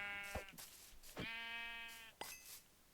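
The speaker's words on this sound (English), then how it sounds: "let's sneak up on that sheepy. Sorry, sheep, I need things" A Minecraft sheep bleats several times, drawn-out wavering baas close up with short pauses between them, against a quiet background.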